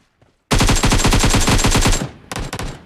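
Automatic gunfire from the BGMI video game: a loud, rapid burst of shots lasting about a second and a half, a short pause, then a second burst, with no talking.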